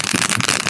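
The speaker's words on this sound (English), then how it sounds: "these are just fireworks to simulate what that would look like" Fireworks go off in a dense, continuous crackling barrage, loud and close. They are being used to simulate a drone attack.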